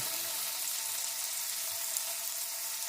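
Seasoned tomato slices, dusted with paprika, fry in a pan with a steady, close hiss that holds at one level throughout, with no talking.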